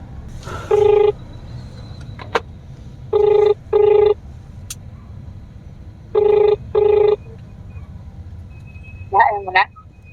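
Outgoing telephone call ringing back in paired tones, two short double rings separated by pauses, clear and close over a low steady background hiss, followed by a brief clatter near the end.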